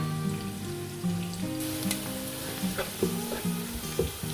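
Onions fry on high flame for chana pulao, a dense, close sizzle with crackles and a few stirring clinks, while a faint steady hum runs beneath.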